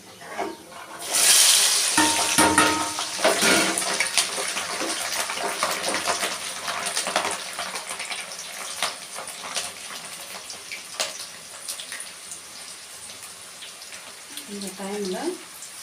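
Tap water runs while curry leaves are washed in a home kitchen, a loud gushing stream at first that then continues as a lighter splashing trickle, with faint voice-like sounds in places.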